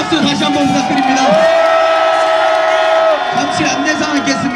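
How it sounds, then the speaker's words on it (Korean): A large crowd at a Korea University student rally against impeachment cheers and claps in a dense, continuous roar, with a sustained whistle-like tone rising above it midway through. "큰 박수 다시 한번 부탁드립니다."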